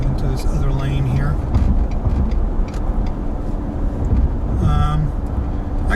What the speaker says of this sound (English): in the truck might be there's some road noise, and the truck's just loud to begin with